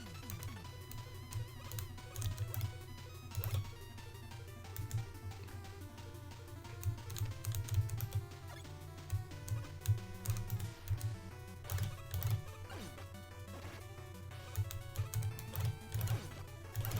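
Computer keyboard typing during work on WarpMan stage graphics: scattered quick key clicks under steady, louder tonal music running throughout.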